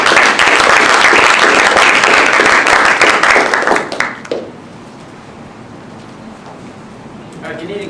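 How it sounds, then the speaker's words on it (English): Audience applause for a presenting robotics team at a safety presentation, a dense loud burst of many hands clapping that fades out about halfway through, leaving a quiet room. "So give a round of applause for them and we'll get started."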